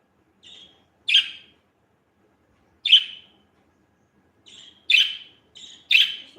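A budgie gives bright, short chirps alone against silence. Isolated single notes and quick double calls are spaced irregularly, close and clear.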